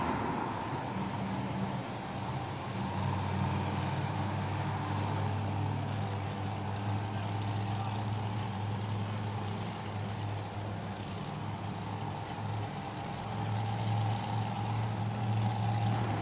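The Wild Side monster truck runs a two-wheel skills challenge in a packed football stadium. Its engine gives a continuous heavy roar and rumble, revving and surging steadily with a broad crowd-filled stadium wash behind it.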